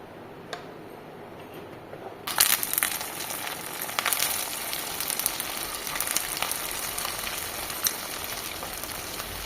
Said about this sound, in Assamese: এতিয়া মই তেলত ভাজি ল'ম এইখিনি